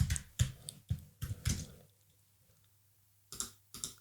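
Details are typed into a web form on a keyboard. A quick run of close, crisp key clicks is followed by a quiet pause with a low hum and then a few more taps.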